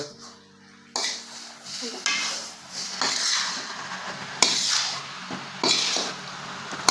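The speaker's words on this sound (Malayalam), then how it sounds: "മസാല എല്ലാത്തിനും പിടിക്കട്ടെ ഒന്ന് ഇളകാം" Pepper chicken masala being stirred in a pan, repeated scraping and clanking of a spoon against the pan at an irregular rhythm, close and clear with a soft sizzle beneath.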